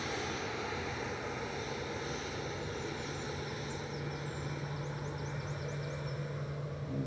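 A departing Airbus A320 Classic bound for Geneva at Manchester Airport gives a faint, distant, continuous engine rumble with a low steady hum and a thin whine, alone without talk.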